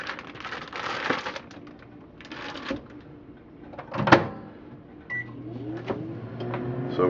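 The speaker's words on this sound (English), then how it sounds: "right now I'm just gonna defrost some chicken in the microwave" A microwave oven defrosting chicken hums steadily, with a low drone, a few clicks and clunks, and a brief high beep near the end.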